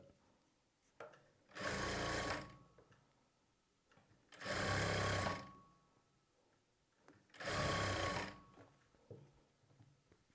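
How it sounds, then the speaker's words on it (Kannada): Sewing machine stitching piping onto a blouse in three separate short runs, each a close, loud whirring burst of about a second or so. Quiet pauses with faint handling noises fall between the bursts. "ಸ್ವಲ್ಪನೇ ಸ್ಟಿಚ್ ಮಾಡಬೇಕು ರೌಂಡ್ ಶೇಪ್ ಬಂದಾಗ."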